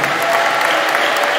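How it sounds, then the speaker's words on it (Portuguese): A church congregation claps hands in praise, a loud, dense burst of many hands clapping together at close range. "Pode louvar Jesus com as palmas de vitória"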